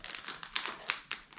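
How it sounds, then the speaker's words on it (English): A small plastic bag holding an emergency fishing kit is crinkled open, a brief close, quiet rustle with a few sharper crackles. "This is in a little plastic bag, so we will open this up"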